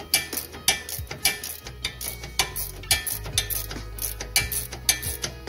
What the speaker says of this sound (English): Now go ahead and tighten up your lower strut bolt.